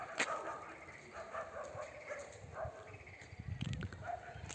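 Several dogs bark and yip in the distance along a road, faint and scattered, with a few brief voices and footsteps nearby.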